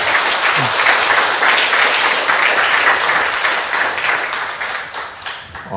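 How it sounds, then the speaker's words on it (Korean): Audience applause at an academic presentation, a full, steady stretch of many people clapping that tapers slightly toward the end. "큰 박수를 한번 보내주면서 격려의 마음을 전하고 싶습니다"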